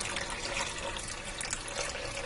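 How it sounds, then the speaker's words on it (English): Beef broth glugging as it pours from a carton into a cooker pot, a continuous gurgling liquid rush, close and fairly quiet, with no voices. "put a hole in the top of the carton and it pours right out for you, because if you don't, then you get this action there"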